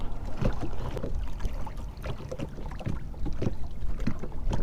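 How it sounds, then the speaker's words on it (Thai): Strong wind buffets a small fishing boat on choppy water, a steady loud rushing roar with gusty wind noise hitting the microphone throughout, no voices. "ลมแรงมาก"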